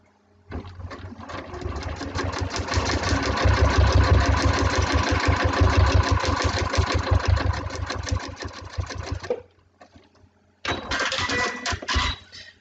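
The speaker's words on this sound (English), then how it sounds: "we're going to sew all the way through to each side of the seam" Close, loud sewing machine stitching through a fabric seam, a fast, steady mechanical chatter that runs for about nine seconds, stops briefly, then starts again for a shorter burst.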